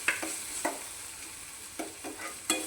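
Tomatoes sautéing in a hot pan, a steady low sizzle broken by a handful of sharp stirring scrapes spaced irregularly across the moment, close and fairly quiet with no voices.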